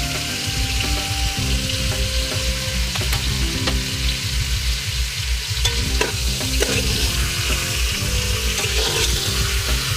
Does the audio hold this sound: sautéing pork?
yes